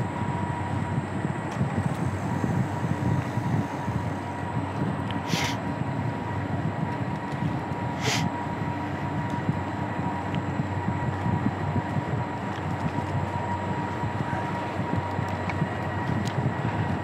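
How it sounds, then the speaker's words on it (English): A train rumbles past at a distance, a continuous low roar with wind buffeting the microphone, a couple of brief bursts of noise, and no talking. "Sounds like another train going through."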